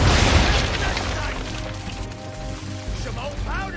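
Ship cannon fire in Assassin's Creed III: a heavy boom opens loudly, then the roar fades under battle noise and game music, with a brief whistling sweep near the end.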